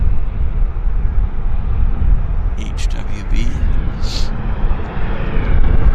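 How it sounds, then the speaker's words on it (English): At Vancouver airport, a helicopter engine runs steadily as a constant broadband roar, with someone talking over it and some wind buffeting the microphone. "they've been running the engine for quite some time"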